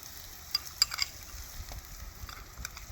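A spoon stirs chicken biryani masala with ginger garlic paste, turmeric and mint in a pan, giving a soft sizzle with a few light clinks and scrapes close by.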